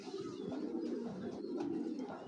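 A racing pigeon coos softly in low, repeated murmurs, faint and close, with no clear speech.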